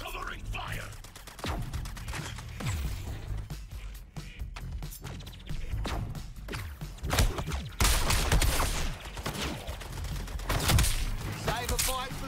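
Bursts of gunfire crackle through chaotic combat in Suicide Squad: Kill the Justice League, mixed with impacts and game effects, while voices talk over the action.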